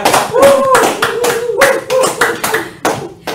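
Studio podcast audience claps in a few short, sharp bursts of hand claps, close and loud, with a voice talking between and over the bursts.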